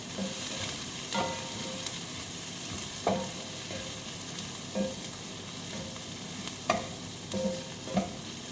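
Garlic sautés in a pan for chicken liver adobo, a steady sizzle broken by repeated stirring scrapes and clanks every second or two, close and alone.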